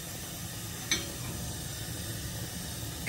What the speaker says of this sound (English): Heat the pan with the oil of your choice. We're using groundnut oil because that's what we like.